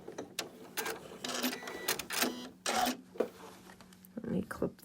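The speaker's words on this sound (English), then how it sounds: "I'm going to hit my lock, and it's going to do 1 more stitch right over the first stitch" Sewing machine running in short bursts to lock a stitch over the first one while piecing a quilt block, mechanical whirring interleaved with a person talking nearby.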